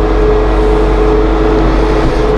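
Steady engine drone of a 2015 Massey Ferguson 1759 compact tractor driving in gear, a constant low hum with a tonal whine, loud and close throughout with no variation in pace.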